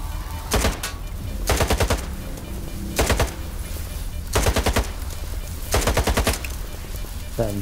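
Automatic weapon fire in the PC shooter Stalker 2: Heart of Chornobyl, with five loud, close bursts of rapid rounds separated by short pauses, no talking.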